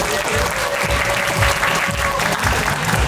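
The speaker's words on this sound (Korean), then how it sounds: "린씨와 린섬에게도 박수 한번 드릴게요" Spectators at an underground dance battle semi-final in Daejeon, South Korea give the dancers a strong round of applause, a thick, even roar of clapping that holds steady throughout, with a faint tone humming beneath.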